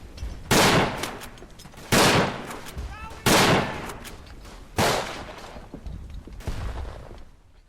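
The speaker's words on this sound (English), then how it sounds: "every single time something impacts the ground, it's a really deep thud" Five heavy, booming shell impacts from the video game Verdun, spaced a second or so apart, each a deep thud followed by a short rumbling decay, with faint background noise between.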